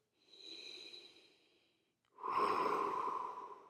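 Deep breaths during a strength exercise, a softer airy inhale followed after a short pause by a louder, forceful exhale, close and alone with no talk.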